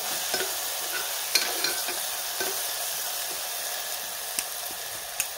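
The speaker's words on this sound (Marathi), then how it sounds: "कमी गॅसवरतीच आपल्याला हे छान परतून घ्यायचं 1 ते 2 मिनिटं" Tomato masala sautéing in a pan over a low flame for a spicy pea and field-bean curry, a steady soft frying hiss with a few sharp clicks of a spoon against the pan.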